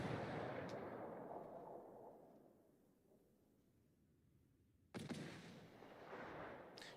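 Bursts of gunfire from a Chappie during a 3v3 competitive video game match, with rumbling shots fading over several seconds, a quiet gap, then a sharp new loud blast that rolls on to the end.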